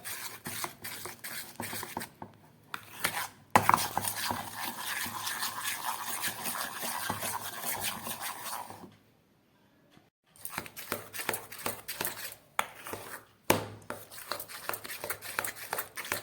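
Urad dal batter beaten by hand in a bowl, a rapid rhythmic scraping and slapping that runs in bursts with brief pauses, close and moderately loud.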